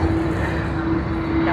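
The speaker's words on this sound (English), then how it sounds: "And yet another A330. Wow. So many A330s of Qantas." A Qantas Airbus A330 airliner at Sydney Airport makes a loud, steady engine drone with a sustained tonal hum running through the broadband roar, unbroken for the whole short stretch.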